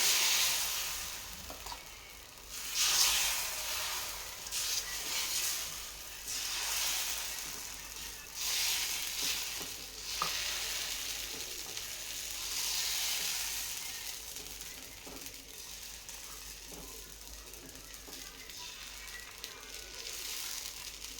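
Green pea dosa batter sizzling on a hot pan, with a continuous moderate hiss and crackle that swells and eases over time, plus occasional light clinks.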